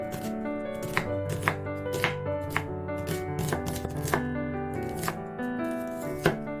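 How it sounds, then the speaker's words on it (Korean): A kitchen knife chops an onion with a brisk, irregular run of close crisp cuts against a board, heard alone with no talk. "양파를 썰고"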